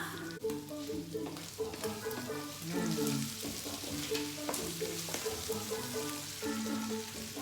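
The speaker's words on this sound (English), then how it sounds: "So our beef is nicely browned." Ground beef browns in a pan for a taco salad, a soft continuous sizzle broken by scraping and stirring strokes of a utensil, close but fairly quiet, with faint background speech-like sounds.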